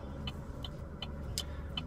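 Steady low road and engine rumble inside a moving car, with faint, evenly spaced ticks repeating about every 0.4 seconds.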